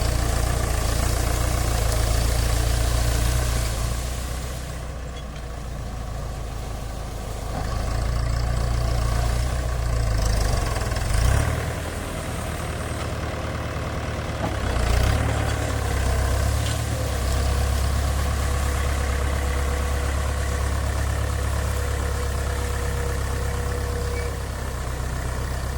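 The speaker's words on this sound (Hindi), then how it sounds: "सीधा ट्रैक्टर चलाएंगे" Tractor engine running steadily on a farm field, a continuous low, heavy rumble that dips briefly and swells again, close by, with no talk over it.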